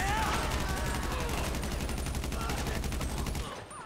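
Automatic gunfire from Michael's gun in GTA V, a long unbroken burst of rapid shots rattling steadily for over three seconds before cutting off, loud and close.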